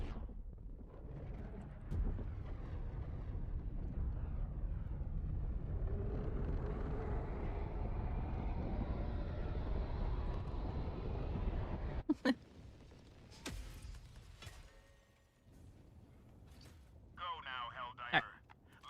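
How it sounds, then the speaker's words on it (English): A Hellpod launches in the video game Helldivers 2 with a deep, swelling roar and rumble that builds for several seconds. Sharp impacts and crackles follow, and voices can be heard. "Hellpod launch initiated."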